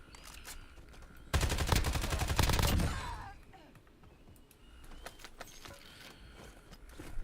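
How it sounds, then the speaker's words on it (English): Automatic gunfire in Call of Duty Warzone breaks out in a loud, rapid burst lasting about a second and a half, then gives way to quieter scattered shots and clatter. "Where are you shooting me from?"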